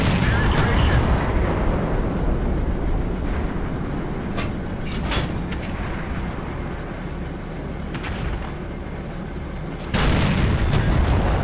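A Nashorn tank destroyer fires in a World of Tanks battle, with a heavy booming report over a dense, continuous rumble of combat and engine noise, and a loud burst near the end.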